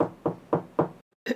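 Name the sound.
soft knocking on a door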